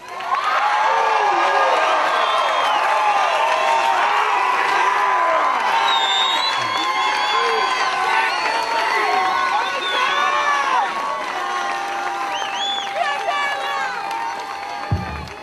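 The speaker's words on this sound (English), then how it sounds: "How about let's give them a big Auburn cheer." Crowd at an Auburn Little League team homecoming reception cheering, whooping and shouting, children's voices among them, loud and sustained, easing slightly toward the end.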